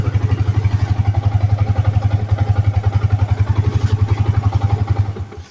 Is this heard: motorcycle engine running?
yes